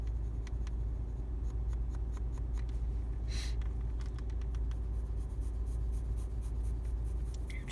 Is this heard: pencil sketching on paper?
yes